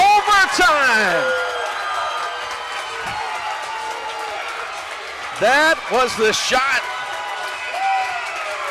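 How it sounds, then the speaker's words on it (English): A high school gym crowd roars and cheers after a game-tying three-pointer with two seconds left sends a Simpson Academy at Leake Academy basketball game to overtime. The loud, sustained roar runs beneath an excited commentator talking over it. "And you hear this crowd."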